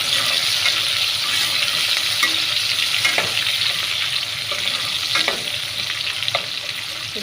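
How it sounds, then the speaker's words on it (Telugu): Curry leaves dropped into hot oil for sambar give a steady, loud sizzle and crackle that runs throughout, with a few sharper pops and stirring clinks. "ఇప్పుడైతే కరాపాకు అయితే వేసేద్దాం."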